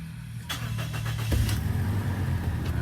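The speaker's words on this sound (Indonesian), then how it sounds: "Di dalam peraturannya itu kita harus hidupkan mesinnya lagi ya" A car engine turns over and catches during automatic-transmission fluid service, a short crank followed by the engine firing up and settling into a low, steady idle, close and clear.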